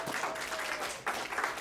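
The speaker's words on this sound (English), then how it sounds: "round of applause to all our volunteers" Audience claps for volunteers at a live event, a brief, soft patter of crowd applause lasting under two seconds.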